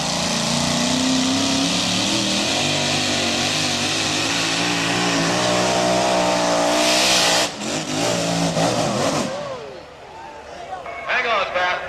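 A mini rod pulling vehicle at a tractor pull, its engine roaring loud and steady, then cutting out as the throttle closes and fading into crowd noise, with an announcer talking over it.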